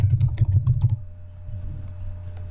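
A quick burst of typing on a computer keyboard, close and crisp, dense key clicks for about a second, then a few scattered taps in a quiet room.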